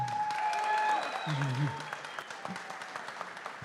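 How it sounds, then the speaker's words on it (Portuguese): A party meeting audience applauds, the clapping loud at first and then thinning out to scattered claps, with a voice speaking briefly over it. "Acho que as palmas têm que ser mais, né, gente?"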